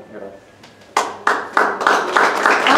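An audience at a debate on Black womanhood and feminism bursts into applause, a few scattered claps swelling into steady clapping from a crowd, with talk audible at the start.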